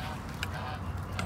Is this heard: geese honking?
yes